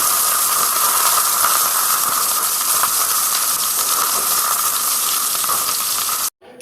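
Fish frying in a pan with turmeric, chilli powder, salt, pepper and curry leaf stems, giving a loud, continuous close-up sizzle and hiss for about six seconds before it cuts off abruptly.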